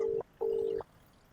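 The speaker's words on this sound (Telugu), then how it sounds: "రింగ్ అవుతుంది." Phone call ringback tone, two clean electronic beeps heard through a handset, a short one followed by a longer one, then silence, moderately faint and without speech.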